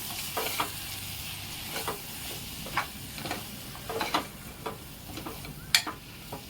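Red chilli powder, coriander powder, dried red chilli chutney and turmeric are stirred in hot oil for potato and spinach curry, producing a soft sizzle with light spoon scrapes and clicks, fairly faint.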